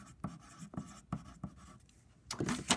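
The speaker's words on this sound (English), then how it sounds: "So the first thing I'm going to do is write my name" A pencil scratches across paper while a name is written at the top of a worksheet, in short close strokes with brief pauses, ending in a louder burst of scribbling.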